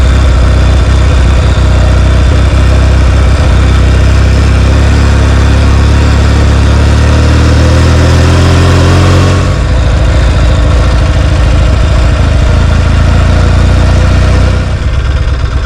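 A 1974 Norton Commando motorcycle running close by, its loud engine holding a steady throb and then shifting pitch as it revs and changes gear, with no voices over it.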